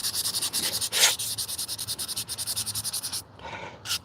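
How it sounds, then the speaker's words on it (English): Steady rasping strokes of sandpaper work across a wooden frame, close and continuous, with a brief brighter scrape near the middle and a short pause before the rubbing resumes. "I'm going to be releasing the video on the build of this frame that I'm sanding right now."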